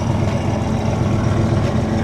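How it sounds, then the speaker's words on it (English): A Chevy truck engine rumbles with a deep, steady idle, loud and close, holding an even tone throughout with no voices. "Damn, Chevy truck sounds nuts."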